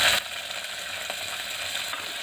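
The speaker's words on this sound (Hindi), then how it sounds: "ये प्याज हमारी हल्की ब्राउन हो गई है, तो हम इसमें ये जो मेथी हमने भिगो कर रखी थी ये डाल देंगे और इसको थोड़ा फ्राई कर लेंगे" Soaked fenugreek (methi) leaves frying in a pan with lightly browned onions for methi khichdi, giving a steady close sizzle with faint stirring scrapes and clicks, no talk.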